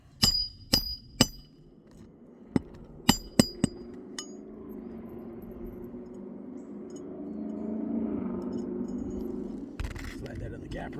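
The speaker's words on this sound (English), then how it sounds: "A couple good whacks done to start it off, and then we'll drive it home." Hammer striking a nail, a run of sharp metallic whacks close by, several in quick succession at the start, then quieter shuffling and handling sounds as a voice speaks.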